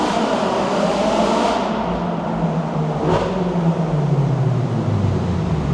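A Ferrari 458 on the move, its exhaust giving a loud, steady roar with a falling engine tone and a brief surge midway, heard from inside or close by with no talk.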